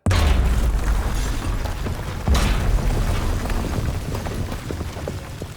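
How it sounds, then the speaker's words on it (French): A loud, deep explosion booms in a sudden burst, followed by a second blast and a long rumbling roar as debris settles, in a story scene where a barbershop and funeral parlor blow up. "L'éclat de la lumière fut à la mesure de l'énorme rugissement de l'explosion."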